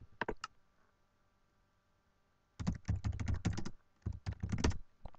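Quick bursts of typing on a computer keyboard during a game-server login, a short flurry of keystrokes, a pause, then two longer close clattering runs.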